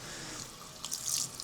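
Water runs from a shower tap over a salon basin, a steady hiss with splashy bursts that grow louder near the end, heard alone and close.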